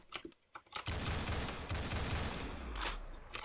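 Desert Eagle pistol fire in the Roblox game Arsenal, heard as a dense, loud burst of shots that runs almost without a break after a few quick clicks and taps. A weapon sound rises near the end, and no one speaks.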